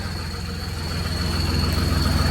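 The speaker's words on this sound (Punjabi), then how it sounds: "ਇਹਨਾਂ ਗੱਡੀ ਨੂੰ ਵੀ ਛੱਡਦੇ ਆ ਸਟਾਰਟ" A vehicle engine idles with a steady low throb and a thin whine above it, holding even and close while the level rises slightly.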